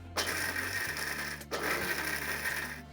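Electric mixer grinder pulsed on roasted peanuts: two short bursts of loud motor whir with rattling grinding, separated by a brief stop, close and without talk.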